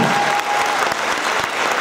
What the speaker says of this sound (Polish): Wielkie brawa, naprawdę.